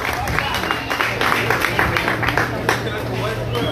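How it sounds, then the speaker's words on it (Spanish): An audience claps and murmurs in a dense, brisk patter of hand claps lasting a few seconds, with crowd chatter mixed underneath. "Paquito Bernal, un fuerte aplauso"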